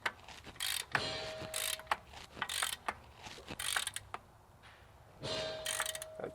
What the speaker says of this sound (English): Torque wrench set to 11 foot-pounds for stage 1